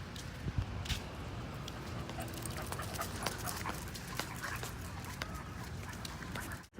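Dogs pant steadily up close, with faint whimpers, shuffling and paw clicks as they move about outdoors, forming a continuous busy texture from start to finish.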